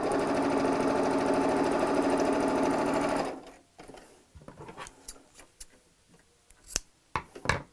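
A sewing machine stitching a scrappy patchwork bag runs loud and steady for about three seconds, then stops, leaving faint scattered clicks and handling noises.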